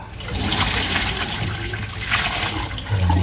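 Water pours and drains noisily as soaked noodles for pancit palabok are strained, a loud continuous rushing splash that surges twice and lasts the whole moment, with no voices.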